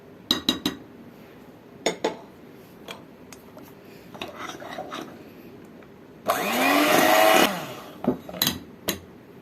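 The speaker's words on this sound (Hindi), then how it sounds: "इसको तकरीबन हम 5 मिनट और मज़ीद इसको हम विप करेंगे।" Pistachio ice cream base being whipped with icing sugar: several sharp clinks of utensils against a bowl, then a burst of electric mixer whirring for about a second before more clinks.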